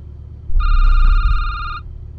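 An electronic telephone ringing in the SecurityBooth video game, a loud steady tonal ring lasting about a second over a low rumbling background.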